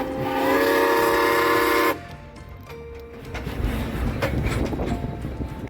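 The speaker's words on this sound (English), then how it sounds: "you'll feel the rumble of the train, hear the powerful chug of the engine" A heritage steam train on the coastal Cockle Train line between Victor Harbor and Goolwa gives a loud sustained whistle blast, then settles into a lower rumbling chug of the engine and rolling carriages.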